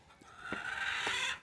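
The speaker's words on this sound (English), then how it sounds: "This is a huge chicken pen." Chickens in a huge pen give a short, faint clucking call with a couple of soft clicks.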